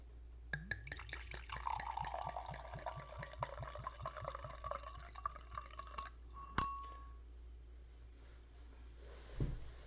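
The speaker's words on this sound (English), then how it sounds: "ASMR pour." Liquid poured into a glass, a close, bubbling glug with rising ringing tones as the glass fills, ending with a clink and a soft knock.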